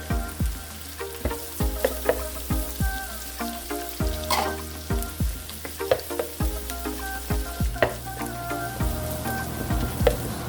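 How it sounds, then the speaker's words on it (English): Onion, garlic and sliced pork sizzle in a hot pan for Lomi noodle soup, a steady loud frying hiss broken by repeated clinks and scrapes of a spatula stirring. "saute the onion until light golden brown, until the aromas come out."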